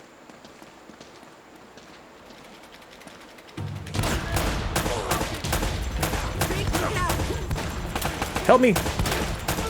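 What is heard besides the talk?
gunfire in video game Uncharted: Drake's Fortune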